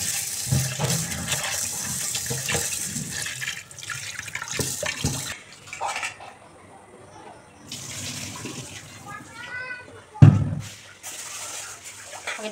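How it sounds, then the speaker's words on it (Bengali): Rice rinsed under a running tap in a kitchen sink: steady splashing water flows, pauses, then resumes, with a sharp knock near the end, while someone talks over parts of it. "আর চালটা এবার ধুয়ে দিই।"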